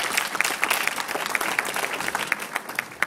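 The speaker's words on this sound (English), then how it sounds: "I would like all of us to give a round of applause in honor of all the educators here today." An audience at a tribute to educators gives a round of applause, a dense steady patter of clapping hands with a few sharper claps standing out, moderately close.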